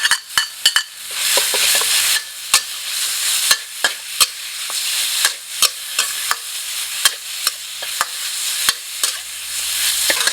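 Beef hitting a hot pan with pounded chili and garlic for a Thai basil stir-fry with straw mushrooms, a constant loud sizzle broken by sharp, repeated spatula scrapes and clacks, no voices.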